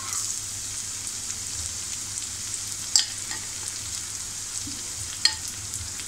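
Tomato going into a pan of browned onions for prawn masala sizzles in a steady, soft hiss, with two sharp utensil clicks from stirring standing out near the middle and end.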